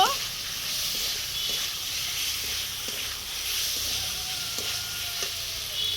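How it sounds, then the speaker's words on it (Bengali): Pointed gourd (potol) is stirred into fried spice paste in a hot pan, giving a steady close sizzle with a few soft scraping stirs and no talk over it. "পটল দিয়ে দু একবার নেড়ে নেব"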